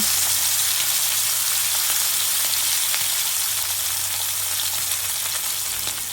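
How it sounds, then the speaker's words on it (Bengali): A whole hilsa fish, coated in spice paste, fries in mustard oil in a wok with a loud, dense, unbroken sizzle heard up close. "এরপরে আমি একটা কড়াইতে সরিষার তেল দিয়ে এর ভিতরে মাছটা ছেড়ে দিব।"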